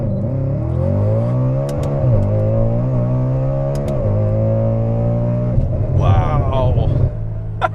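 A supercharged Audi RS5 V8 revs hard while accelerating from a standstill toward redline. The loud, close engine note climbs steadily, then drops briefly at a gear shift before pulling strongly again.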